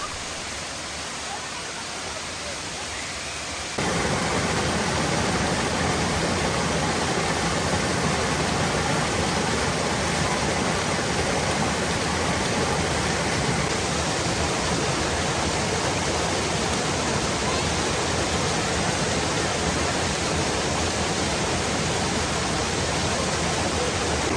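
Steady, dense roar of Powerscourt Waterfall in Ireland, falling water heard continuously and fairly close, swelling louder after the first few seconds and then holding even without pause.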